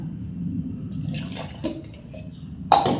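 Milk poured from a bowl into a grinder jar while making cold coffee, giving soft liquid trickles and splashes, then a brief sharper splash near the end in a quiet kitchen.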